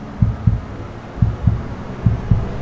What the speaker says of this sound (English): You hear that? Little heartbeat.